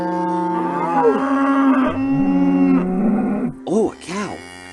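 A cow moos loudly and close by, several long drawn-out lowing calls followed by shorter bellows near the end, with no other sounds competing.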